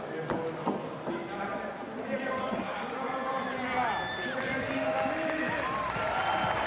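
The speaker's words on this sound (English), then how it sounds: "Jessie Pilts gets a big reaction from the German crowd." A German crowd at the 2022 European Championships bouldering final in Munich roars and cheers for a climber, a dense, sustained wall of voices with whistles and shouts, steady and loud throughout.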